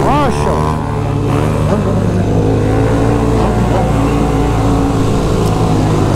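A BMW GS1200 motorcycle engine revs hard and sustained while the bike spins in place, a loud, continuous droning roar with rising pitch sweeps at the start and voices shouting over it.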